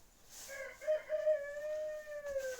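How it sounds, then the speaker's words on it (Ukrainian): A rooster crows once, a long drawn-out call that rises then holds steady, fairly close and clear against a quiet background. "півень, чую ж ти кукуріка кукурікаєш"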